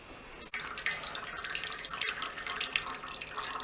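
Water runs steadily from a kitchen tap into a pan, filling it so burnt-on residue from cooking shrimp scampi can soak, a continuous close splashing rush with a brief break near the start.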